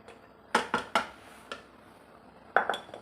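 Mashed pumpkin being scraped into a pot of dal, several sharp clinks and knocks of a utensil against the pot in two short bursts, close and clear with no talking.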